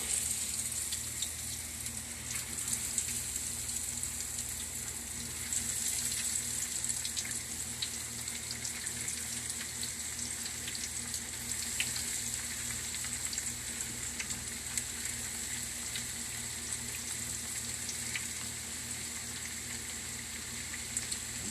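Breaded eggplant slices fry in oil, giving a steady, fairly faint crackling sizzle with scattered pops, continuous for about twenty seconds and unbroken by voices.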